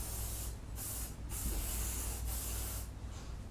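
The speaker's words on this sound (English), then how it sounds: "And spray." Hair spray misted onto hair while the head is flipped upside down, four or five separate hissing bursts of varying length with brief gaps, close and fairly soft, over a low background hum.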